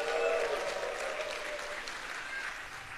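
A church congregation applauds and cheers during a sermon, a steady dense wash of clapping with voices mixed in, continuous throughout.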